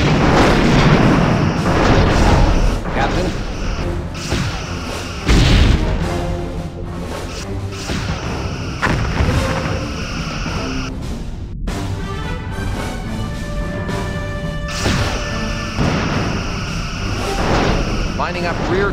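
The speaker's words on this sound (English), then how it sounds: "blowing up rear torpedo tubes." Rear torpedo tubes blow up in the space combat game Star Trek Bridge Commander, with deep booming blasts at the start and again a few seconds later, rumbling under ongoing voices and game sound.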